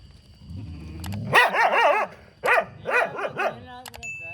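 A dog barks in two close, loud bursts of several rapid barks each, after a low rumbling noise at the start, with brief whimpering yips near the end.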